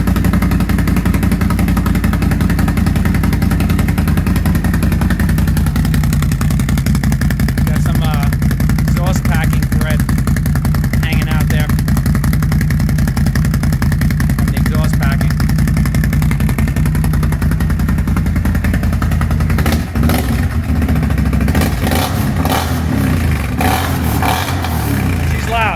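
Loud engine running close by with a raw, rattling roar that rises and falls as it revs, clattering throughout, with a sharper burst of revving near the end.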